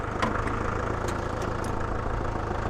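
A four-wheel-drive vehicle's engine runs slowly in creep gear, a steady low idling rumble with faint rhythmic knocking, close and continuous throughout.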